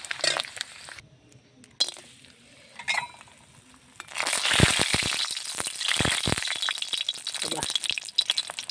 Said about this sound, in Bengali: কিছুটা ভাজা চলছে।